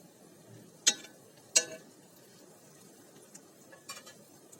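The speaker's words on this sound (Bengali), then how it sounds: "এক পিঠ হওয়া পর্যন্ত ভেজে নেব" Egg and flattened rice cookies fry gently in a pan over a low flame, a soft, steady sizzle with two sharp utensil clicks early on and a few lighter taps later.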